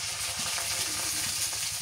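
Ginger garlic paste sizzles in hot oil over fried onions in a pan for a country chicken curry, a steady close crackling hiss with no talk.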